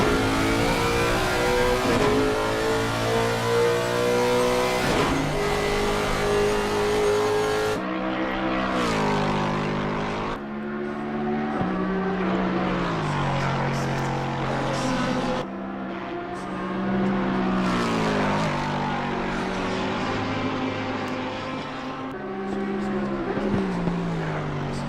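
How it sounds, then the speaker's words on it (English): Lexus and Lamborghini race cars battle at Bathurst in a PC racing game, engines roaring loud and continuous with repeated rising revs and gear shifts, no talk. "A little battle between Lexus and Lamborghini."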